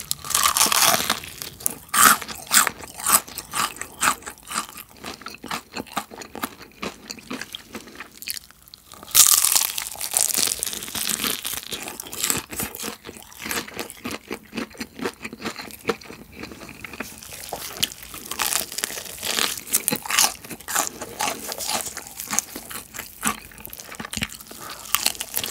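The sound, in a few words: eating crispy fried chicken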